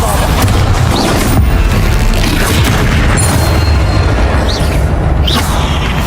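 Spell explosions from Incendio and Bombarda go off in Hogwarts Legacy during a troll fight, a dense, continuous barrage of booms and crackling blasts that stays loud throughout with no letup.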